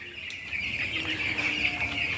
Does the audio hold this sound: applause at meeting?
no